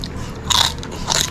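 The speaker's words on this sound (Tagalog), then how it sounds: "Malutong talaga. Ang balat. Parang lechon, no?" Two loud crunchy bites into crispy fried pig face skin (maskara ng baboy), a Filipino dish with lechon-like crackling, close to the microphone with a short pause between them and no talk.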